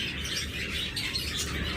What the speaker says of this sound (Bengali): আরেকটা চমৎকার রেড অপালাইন টপ মার্কিংয়ের পাখি